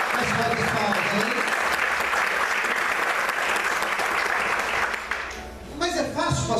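A church congregation applauding during a Portuguese-language sermon: sustained, dense clapping at a steady level that thins and fades near the end, where a voice resumes speaking.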